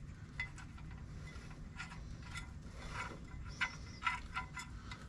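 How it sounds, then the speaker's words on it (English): Clutch bolts hand-threaded a few turns into a 1997 Jeep Wrangler TJ during clutch installation, heard as close, quiet metallic scraping and ticking with a couple of sharper clicks over steady shop hum. "And just start it a couple of threads"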